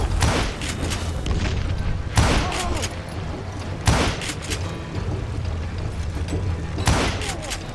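Dynamite blasts in the Western shooter Call of Juarez Gunslinger: several loud booming explosions, about four spaced a few seconds apart, over a dense rumbling bed of gunfire and game noise.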